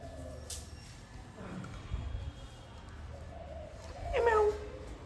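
A cat meows in a domestic setting, a short rising-falling call near the end over low background noise, with a faint earlier mew and brief human voice sounds.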